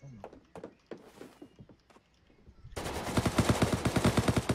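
Gunfire in the Rules of Survival battle royale game: after a stretch of scattered thuds, a loud, rapid automatic burst of closely spaced shots fills the final two seconds.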